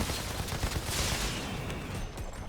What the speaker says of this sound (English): There's a lot of people shooting at me right now.